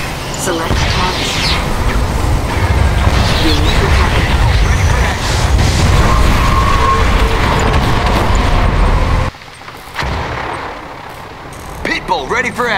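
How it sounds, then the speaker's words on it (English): Ion cannon strike in Command & Conquer Tiberium Wars during a GDI versus Scrin match, a loud sustained roaring rumble with rushing noise that cuts off abruptly, then quieter battle sounds, with game voice lines over it. "Ion cannon activated."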